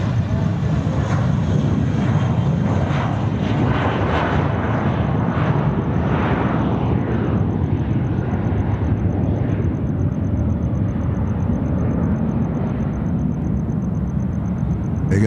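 Jetstar airliner taking off at Sydney Airport in the evening, a loud sustained engine roar that dominates throughout and slowly shifts in pitch as the aircraft climbs away.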